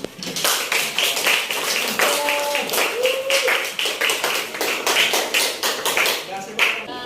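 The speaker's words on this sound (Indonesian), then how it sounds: "kita berikan aplaus" A room of people claps in steady, dense applause for about seven seconds, with some voices mixed in underneath.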